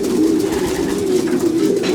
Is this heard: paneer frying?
no